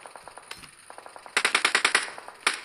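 Rapid automatic gunfire from a PP submachine gun in PUBG Mobile crackles in quick bursts: a fainter run of shots, then a louder close burst of about eight rounds and a final single shot.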